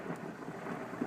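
A thunderstorm with rain: a low, rolling rumble blends with a soft, continuous patter of rainfall, fairly quiet and steady throughout the short stretch, with no voices.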